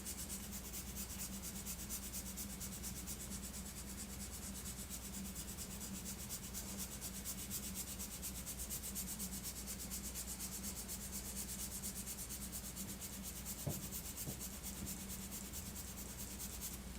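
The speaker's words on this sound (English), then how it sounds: "So now that we've sanded back the majority of the white putty that we put on there" Steady, continuous dry rubbing of sandpaper over white putty on a plastic Mazda RX-7 scale model car body, close and even throughout with a faint low hum beneath and one brief tap near the end.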